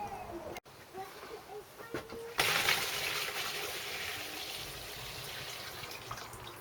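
Water mixed with a little fuel pouring from a part of a small engine being rebuilt, starting with a few knocks and handling noises, then a sudden steady gushing splash that carries on to the end.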